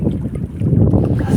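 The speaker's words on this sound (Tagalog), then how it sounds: "Dahil mahangin na dito masyado, naano tayo ng hangin." Loud, low buffeting wind roars against the microphone on a small fishing boat out on the water, a constant rumbling rush with no voices.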